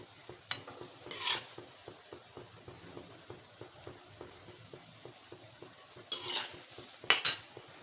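Gulab jamun fry in oil with a soft, steady sizzle, punctuated by regular light scraping and stirring taps and a few louder bursts of bubbling and utensil clatter near the end, with no voices.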